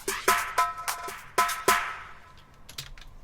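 A drill-style percussion fill from J Cactus's fill sample pack plays alone: sharp, punchy hits land in a skittering, uneven rhythm, loud and close, then trail off into quieter scattered taps.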